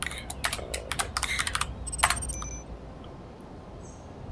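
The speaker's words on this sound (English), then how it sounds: "So I press enter, type /GPS, and type in silicon mag." Rapid keystrokes on a computer keyboard entering a command in a rover game, a quick burst of clicks over about two seconds, then fading to near quiet.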